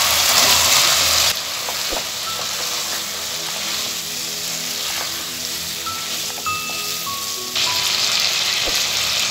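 Pumpkin pieces fry in spice masala for a pumpkin egg curry. A loud sizzle at the start drops to a softer, steady crackle and then rises again toward the end.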